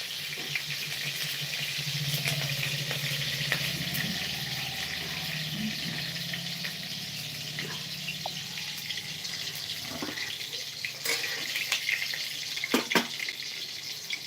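Chili fries in hot oil over a low-power gas stove while greens are cooked, giving a steady close sizzle with scattered sharp pops and crackles, and a faint voice briefly underneath.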